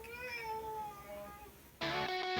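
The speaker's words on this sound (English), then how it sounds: "He was a very talkative cat." A talkative cat meows twice up close, a long wavering call followed by a shorter, brighter one, with no other sounds around it.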